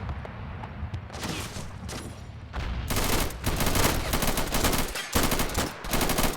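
Machine-gun and rifle fire rattles through a battle in the video game Army Men: Plastic Wars, with dense, loud bursts that swell after a quieter opening and continue almost without pause.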